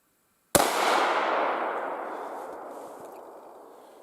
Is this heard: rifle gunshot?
yes